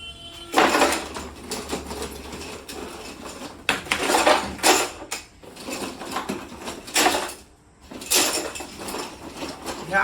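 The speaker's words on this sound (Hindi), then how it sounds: "अब हम इसमें कीचेन डालते रहेंगे।" Metal keychains tumble and clatter in repeated bursts as they are poured onto a weighing scale, a loose jangling rattle that surges, pauses briefly, then resumes, close and fairly loud with no talk.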